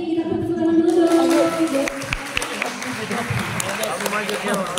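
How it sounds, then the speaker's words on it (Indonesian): An audience breaks into applause, a dense wash of clapping that swells and continues steadily, with people talking over it. "Kita tepuk tangan dulu dong."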